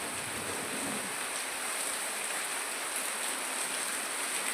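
Steady rain falls in a village, a dense, even hiss holding at constant loudness from start to finish with no voices.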